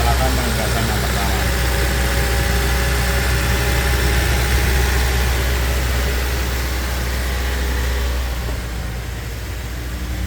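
Toyota Innova Reborn engine running loud and steady during fuel system cleaning, a continuous close drone with a slight drop near the end, speech faintly under it.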